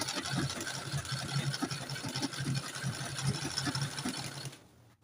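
Sewing machine top stitching a boning channel on a corset, a close, steady mechanical whir with rapid rhythmic needle ticks running without pause for several seconds before stopping.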